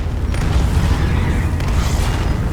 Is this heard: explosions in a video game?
yes